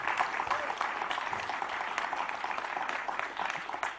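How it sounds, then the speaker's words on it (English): Audience applause at a leadership learning summit in Hyderabad, a steady, even wash of clapping from a crowd that holds at a constant level for the full four seconds. "Can we have a round of applause for Sindhura as well?"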